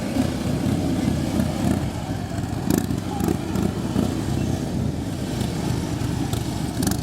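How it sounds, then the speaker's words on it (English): A police motorcycle's engine rumbles steadily during a slow, tight riding maneuver, with brief rises in revs now and then over a constant mid-distance drone. "You hear him spinning up the engine every once in a while"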